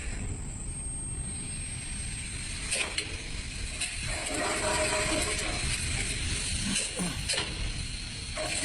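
A multi-wire coil winding machine runs continuously in a factory, a dense mechanical whir with steady ratcheting clicks and occasional sharper knocks over a broad rumble.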